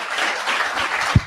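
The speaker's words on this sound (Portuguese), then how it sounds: "Dê um aplauso ao teu Senhor." A church congregation claps in sustained, even applause that fills the room at a moderate level from start to finish.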